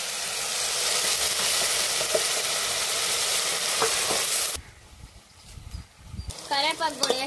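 Onion and green chilli paste, with ginger-garlic paste and curry leaves, frying in hot oil for fish curry; a loud steady sizzle with stirring fills the first half, then drops to quieter crackling with a few louder bursts.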